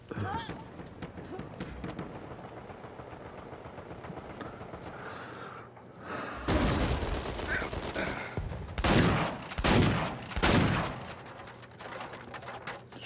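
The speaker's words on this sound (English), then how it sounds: "Shooting. I'm shooting the wall." Shotgun fire in the video game Uncharted 4, a couple of heavy blasts and bursts of crackling gunfire over in-game running and noise, growing louder in the second half while a voice talks over it.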